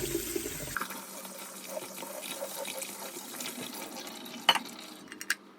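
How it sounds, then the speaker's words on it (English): Tap water runs over drained canned chickpeas being rinsed in a kitchen sink, a quiet steady splash and trickle with a few sharp clinks near the end. "Rinse them off, get the brine off them."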